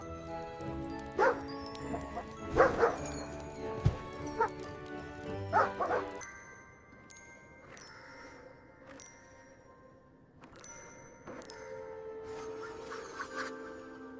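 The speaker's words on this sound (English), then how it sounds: "Happy bark." A dog lets out several short, happy barks and yips in bursts over a background of music, growing sparser and quieter toward the end.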